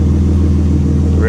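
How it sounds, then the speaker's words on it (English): A JDM 7th-generation Honda Accord V6 idles after a warm startup, a steady low engine hum close to the microphone with no changes in revs. "It's a warm startup, it's not cold."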